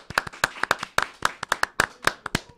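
Rhythmic clapping from a small group during a school news broadcast, about twenty sharp, close claps in an uneven, quick pattern with no talking.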